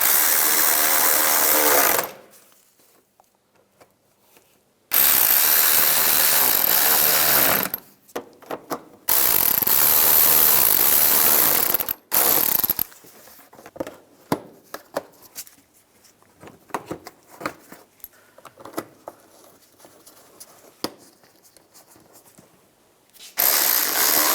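Power driver tightening fog light screws on a Chevrolet Equinox, several loud buzzing whirs in bursts separated by silence, followed by quieter ratcheting clicks and rattles.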